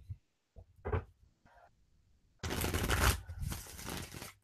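Tarot cards are handled with a few soft taps and slides, then riffled and shuffled in a dense, crisp flurry at close range with no talking.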